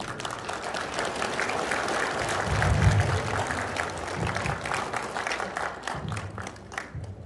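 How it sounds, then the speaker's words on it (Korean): Welcoming applause at a Korean Hwang clan general assembly as a former chairman is introduced. A large hall of hands claps in a steady, dense roar that peaks briefly and then holds at a moderate level. "박수로 환영합니다"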